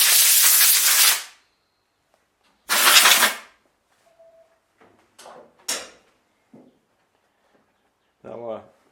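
Compressed air blasting through generator air filters in two short loud bursts, followed by small clicks and handling noises and a brief voice.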